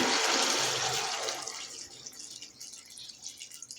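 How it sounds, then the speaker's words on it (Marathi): Hot water poured into a pan of sautéed vegetables for sambar, a loud rushing splash at first that fades over a few seconds into softer trickling and bubbling. "भाज्या दोन मिनिट परतले की ह्याच्यामध्ये मी थोडंसं गरम पाणी घालते"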